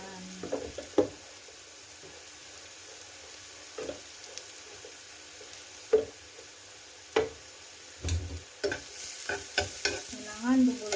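Beef samosa filling with onions and garlic browning in a pan, a low steady sizzle punctuated by intermittent spoon scrapes and taps on the pan, growing busier toward the end.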